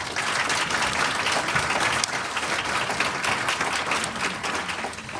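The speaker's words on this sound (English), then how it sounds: "A special thank you and a round of applause for our panel." An audience at a health care reform seminar applauds its panel, a full, even roar of clapping close by that holds steady throughout and tapers slightly near the end, with no speech.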